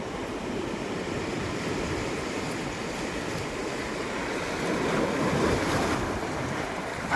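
Ocean waves breaking along the Konkan shore at a crab-catching spot, a steady broadband wash of surf with wind buffeting the microphone, swelling a little louder near the end.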